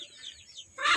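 Backyard hens kept as farm chickens, giving soft, close clucking calls and chirps over a quiet yard, with a louder burst of fowl noise near the end of the moment.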